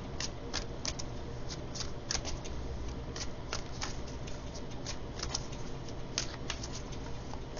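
Playing cards are shuffled and drawn in quick, crisp riffles and flicks, close and steady, with no speech.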